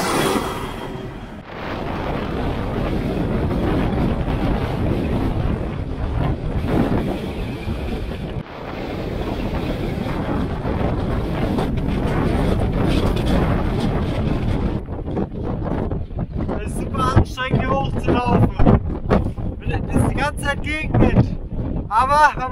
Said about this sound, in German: Wind hat immer noch ein bisschen nachgelassen.